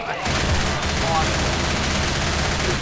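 Sustained automatic gunfire in Left 4 Dead 2 on the Swamp Fever campaign. A loud, dense, continuous rattle of shots runs almost the whole way through with hardly a gap.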